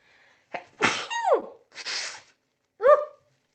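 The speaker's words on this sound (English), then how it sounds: "First, I'm going to probably sneeze" A drawn-out sneeze: a quick inhale, a loud explosive burst with a squeaky vocal tail, a breathy follow-up, then a short squeak.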